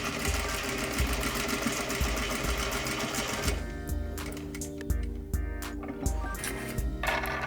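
A sewing machine runs in a fast, even whir while edge-stitching trousers, briefly pausing for a needle pivot, then stitching again in shorter bursts.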